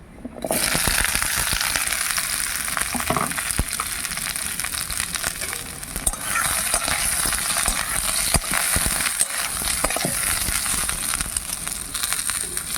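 Amla gooseberries drop into hot oil seasoned with asafoetida and fry with a loud, continuous close sizzle and crackle, with occasional stirring scrapes.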